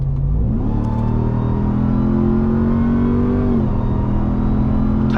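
A car pulls hard in sport mode, its engine revving up loud and close with a steady rising drone, then dropping briefly at a tight upshift before climbing again, no talk over it.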